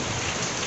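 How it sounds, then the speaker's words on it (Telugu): Heavy rain pours steadily during a thunderstorm at home, a dense, loud hiss of drops striking surfaces with a low rumble of thunder underneath and no talking. "ఇదిగోండి ఎంత వర్షం పడుతుంది మీకు వినిపిస్తుంది ఆ ఉరుములు ఉరుముతున్నాయి"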